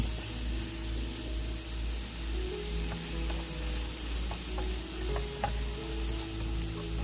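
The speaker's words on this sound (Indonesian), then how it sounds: "Dan ini kemudian saya masukkan udangnya, tumis." Shrimp and tofu stir-fry in a pan, a steady close sizzle with scattered clicks of a spatula against the pan throughout.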